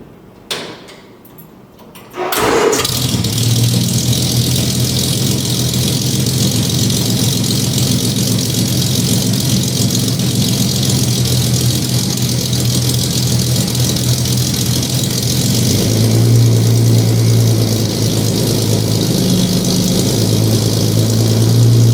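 Engine of a homemade boat-tail speedster idling through a Cherry Bomb muffler on a custom exhaust, starting after a brief quiet moment into a loud, steady rumble that continues throughout, with a slight rise in the later part.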